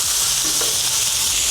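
Ground beef (80/20 mince) sizzling and frying in hot oil in a cast iron skillet, a steady close hiss throughout with no talking.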